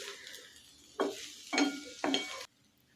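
Vegetables being stirred into soaked poha in a pan, three distinct scraping stir strokes at a steady pace, close and fairly quiet against a soft kitchen background.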